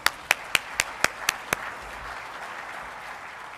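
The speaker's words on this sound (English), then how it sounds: "So I think that deserves one more round of applause for Ambassador Burns." Audience applause at a government briefing on Korea and the Cold War: seven sharp, separate claps spaced evenly over about a second and a half, then only faint room noise.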